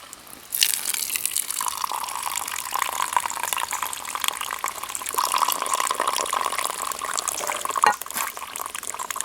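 Hot water poured from a titanium cup into a coffee bag in a mug outdoors in the country, a steady close gush and trickle running for several seconds with a brief splash near the end.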